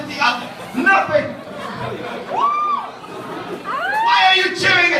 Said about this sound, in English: Why are you cheering at that?